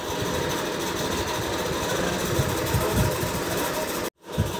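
The water pump motor of a Symphony air cooler runs with a steady mechanical hum and rattle, close and continuous, then cuts out abruptly near the end.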